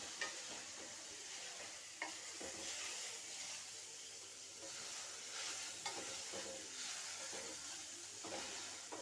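Chayote curry cooks in its own water in a pan. A soft, steamy sizzle runs under rhythmic stirring scrapes, quiet and close, with no talk.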